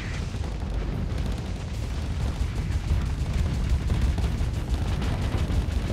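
Siege weapons fire in the Starsector space combat game, producing a continuous barrage of deep booming blasts and rumbling explosions that overlap densely at fairly steady loudness.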